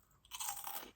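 Crunching of herby Brazilian crisps while chewing, a close, short burst of crisp crackling bites lasting under a second with no talking.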